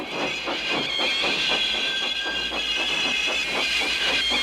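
A steam locomotive puffs rhythmically while pushing, with regular chuffs of hissing steam over a steady mechanical background, fairly close and unaccompanied by speech.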